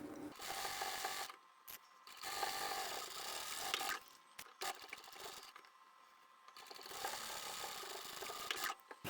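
A sewing machine stitching a beginner's hanging cell phone pouch runs in several bursts of rapid stitching broken by short pauses, steady and close, with no one talking.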